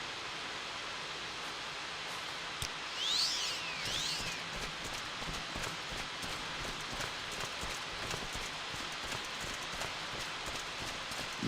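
Steady rain pouring over a city in the video game Morrowind, a constant broadband hiss that fills the whole clip without a break. A few brief chirps and clip-clop-like sounds rise above it near the start.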